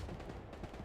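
Dense, continuous gunfire from a multiplayer shooter match, a rattle of rapid shots filling the short moment at steady loudness with no talk over it.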